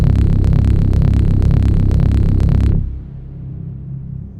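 A Buchla synthesizer oscillator runs through a Tascam M216 mixing console, giving a loud, dense buzzing hum with a fast pulsing texture. About two-thirds of the way in it suddenly drops to a quieter, duller low drone.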